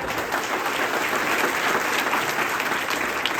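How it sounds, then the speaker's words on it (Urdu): An audience in a college hall in Shirpur applauds loudly at an education talk, with thick, sustained clapping throughout and no voices. "زوردار تالیاں"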